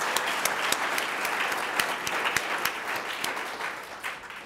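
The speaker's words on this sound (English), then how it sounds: "That deserves applause." An audience at a poetry reading gives sustained applause for U.S. Poet Laureate Tracy K. Smith, a dense, steady patter of clapping with a few sharp individual claps standing out.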